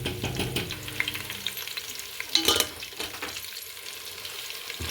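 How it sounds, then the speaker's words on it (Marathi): A dal tadka tempering of red chillies and cumin crackles in hot oil, with close, uneven frying sizzle and stirring scrapes peaking in a sharp burst midway, then easing to a quieter hiss. "अशा प्रकारे आपला तडका तयार झाला आहे."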